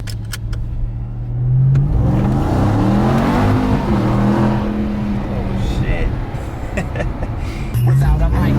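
A 2021 Ram TRX pickup's engine revs and pulls hard from inside the cab, a loud sustained roar that rises and holds, with occupants talking over it.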